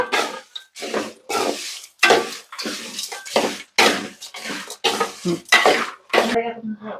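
Whole spices, cardamom and cinnamon, stirred in a pan for a North Karnataka masala: a dozen or so rhythmic scraping and rattling strokes, close and clear.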